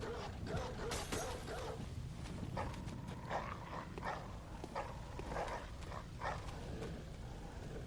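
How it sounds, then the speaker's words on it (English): A dog in the video game Bloodborne gives several scattered barks at moderate distance, mixed with footstep-like clops and ambient game noise, and a person talks over it. "I hear a dog, but I don't see it."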